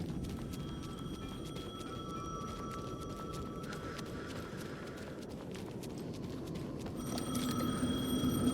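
A telephone rings in the video game Alan Wake 2, its faint, steady electronic tone sounding repeatedly over low, rumbling in-game ambience that swells slightly near the end.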